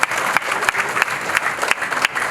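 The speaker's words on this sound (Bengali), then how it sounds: "একটা হাততালি হয়ে যাক।" Audience applause at a crypto awareness programme event, sustained clapping from a crowd with a steady dense texture and a few sharper accents, no talking over it.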